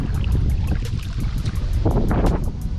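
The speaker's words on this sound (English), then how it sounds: "Wind is absolutely shredding right now though" Strong wind buffets the microphone in a steady roar over faint water lapping during snakehead fishing from a kayak, loud and continuous with no voices.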